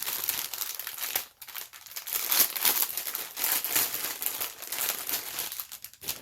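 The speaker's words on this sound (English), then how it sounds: "excuse the crinkling." A plastic package of yarn being opened crinkles and rustles continuously, close and fairly quiet, with a brief pause partway through and no speech.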